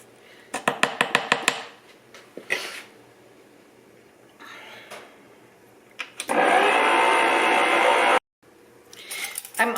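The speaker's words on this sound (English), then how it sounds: "I'm going to turn my mixer on and go ahead and make a mess and go ahead and get these eggs mixed in" An electric mixer beats eggs into peanut butter cookie dough with a loud, close whir in a sustained burst of about two seconds, after bumps, clatter and a brief pause, then starts again briefly.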